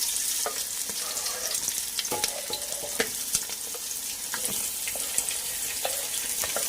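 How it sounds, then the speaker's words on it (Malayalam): Shallots, green chillies and onion frying and being stirred in hot coconut oil in a pan, a steady close sizzle with scraping stirs and occasional sharp pops and clinks, no talk. "ചൂടായ ചട്ടിലേക്ക് നമ്മൾ ഇനി ഇടാൻ പോകുന്നത് ചെറിയ ഉള്ളി പച്ചമുളക് പിന്നെ സവാള ഇത്രയും ഇതിലേക്ക് ഇട്ട് കൊടുക്കാം"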